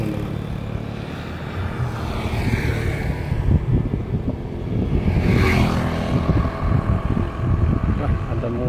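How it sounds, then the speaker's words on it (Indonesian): Honda Vario and Scoopy motorcycles passing on a road, engines swelling and fading as each rides by at moderate distance, with wind buffeting the microphone throughout. "banyak sepeda motor dua melintas jalan ini"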